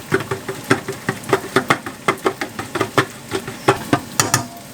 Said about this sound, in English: And then we whisk it